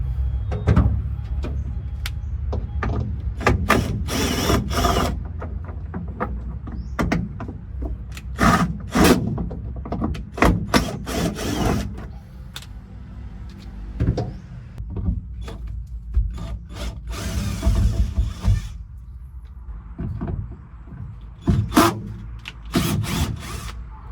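Screws driven back into the roof holes of an old pickup with its headliner removed, heard as a close power drill in short, repeated whirring bursts mixed with clattering handling noises.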